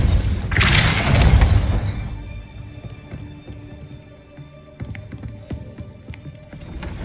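Depulso spell cast in the video game Hogwarts Legacy: a loud whooshing burst with a deep booming rumble that fades over a second or two, followed by quieter scattered thumps and clicks.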